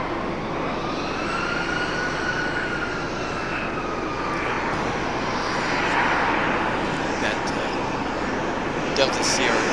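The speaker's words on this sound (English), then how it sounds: "Delta CRJ, we just saw land." A Delta CRJ regional jet lands at Raleigh-Durham airport, its engine roar and whine sustained at a distance with a rising tone, while people talk over it.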